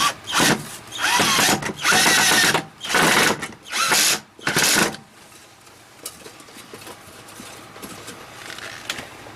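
A power drill whirs in five short, loud bursts with brief pauses between them, drilling into a hydroponic drip bucket, then stops, leaving quiet background noise.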